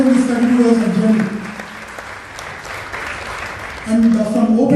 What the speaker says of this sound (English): He needs a great applaud, please, please.